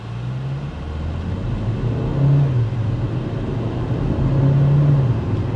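A 2020 Hyundai Tucson 4WD diesel automatic at full throttle, its engine revving hard and rising in pitch, dropping briefly at quick gear shifts, then climbing again as a loud, steady drone from inside the car.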